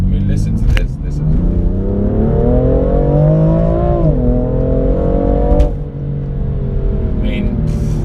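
A 2018 BMW M4 Competition's turbocharged engine revs up close, the pitch climbing smoothly, dipping and climbing again before cutting off, with brief clicks and a quieter idle after.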